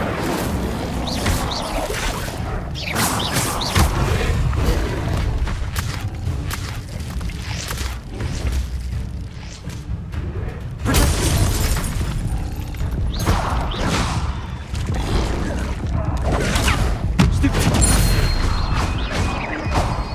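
Incendio fire spell cast in the Hogwarts Legacy video game, a loud, dense burst of whooshing flame and crackling impacts layered over continuous game effects and music, with repeated booms and crashes through a busy, sustained mix.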